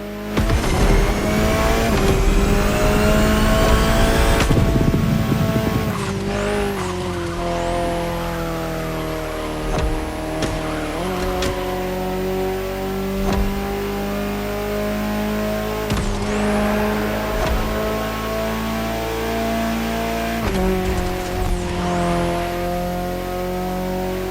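An Alpine A110 concept car driven hard in The Crew Motorfest video game: a loud, revving engine climbs through the gears with sharp shifts, steady high-pitched whine and tyre squeal, no talking.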